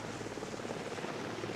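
A helicopter filming the 1983 Oxford versus Cambridge Boat Race gives a steady, droning rotor and engine roar, continuous and fairly distant, with no talk over it.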